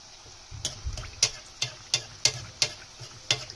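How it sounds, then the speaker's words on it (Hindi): Pakoras fry in oil in a pan over a slow flame for a Sindhi pakoda curry, with a soft, steady sizzle broken by a series of sharp, close ticks and taps. "और ऑयल को स्लो स्लो पकोड़े के ऊपर डालेंगे, क्योंकि पकोड़े जो हैं वो ऊपर से लाइट फ्राई होने चाहिए।"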